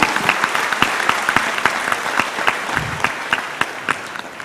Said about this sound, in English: Can we receive a huge round of applause for Chirag, everybody?